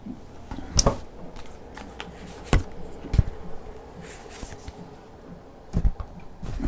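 Tarot cards handled and shuffled close up, with scattered sharp flicks and riffling snaps at irregular intervals over soft rustling, no talking.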